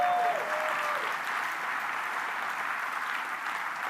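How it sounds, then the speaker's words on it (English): Steady applause from a large keynote presentation audience, a dense even roar of clapping that holds at a constant moderate level with no talk over it. "so I think that's your cue to clap."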